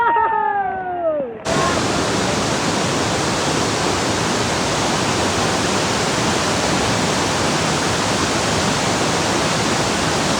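Heavy rain and strong wind roar as a dense, steady wash of noise at Mandavkada waterfall, loud and continuous after a short opening with a voice.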